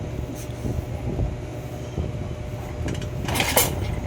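A Honda TMX 155 motorcycle that misfires and is hard to start, its engine cranking into a steady close rumble that grows louder toward the end.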